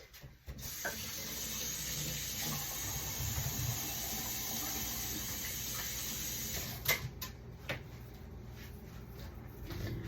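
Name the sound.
water running from tap while washing hands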